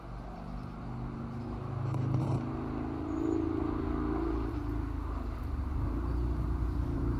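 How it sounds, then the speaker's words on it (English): A loud motorcycle passes close by, its engine rising to a broad roar in the middle and then easing off, over a steady wash of distant highway traffic near a walking path. "So that was a loud kind of motorcycle, but you do hear kind of some highway noise."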